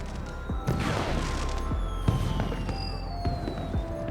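Fireworks projector in the video game Beyond a Steel Sky, loud crackling bursts and booms layered over a steady rumble, with high whistling streaks trailing across the scene.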